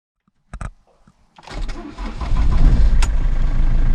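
A 2009 Ford Transit Mk7 diesel van that is hard to start is cranked: a few clicks and a short cranking, then the engine catches and rises to a loud, rough, rumbling idle, heard close up.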